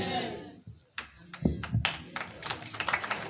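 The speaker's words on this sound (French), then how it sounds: "on vient d'applaudir pour le témoignage de Inès, petite fille du patriarche Papa Romain." Scattered applause from a congregation at a funeral service, brief uneven clapping bursts over low murmuring and a voice speaking.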